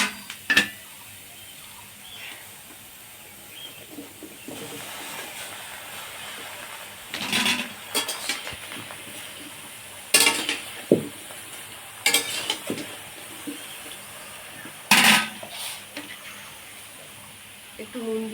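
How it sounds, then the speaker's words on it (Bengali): Taro leaves dropped into a kadai on a lit stove for a vegetarian dish, with faint sizzling and intermittent scraping, stirring knocks against the pan while a person talks. "কচু শাকগুলো দিয়ে দিচ্ছি।"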